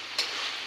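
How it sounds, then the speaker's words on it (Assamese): Duck meat fries in oil as a close, even hiss of sizzling that runs throughout with one slightly sharper crackle near the start, with no voices. "এইবিলাক বেছ ভজা হৈ গৈছে তেলো বহুত ওলাই গৈছে"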